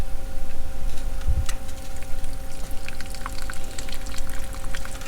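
Pink antifreeze pours and trickles from a plumbing fitting under a travel trailer, a steady splashing stream with soft ticking drips and a faint background hum.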